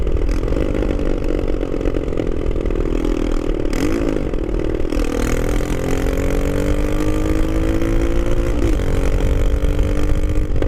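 A Superlight car with its exhaust cut out, driven uphill along the Bosphorus: a loud, steady engine drone and raspy exhaust that climbs smoothly in pitch as the revs rise, with no talking.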